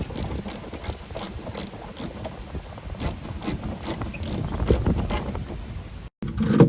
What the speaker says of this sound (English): So now we'll put the 2 screws back in, which secure the cover onto the boot.